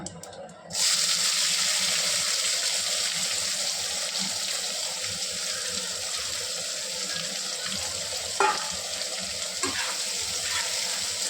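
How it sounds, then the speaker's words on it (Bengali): Chopped onions frying in a pan for a chicken and potato curry, a loud constant sizzle that starts abruptly and holds steady, with a couple of light utensil knocks near the end. "ভালো করে লাল লাল করে ভেজে নিতে হবে।"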